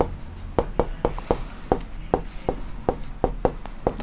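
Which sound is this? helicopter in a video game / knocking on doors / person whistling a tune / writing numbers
writing numbers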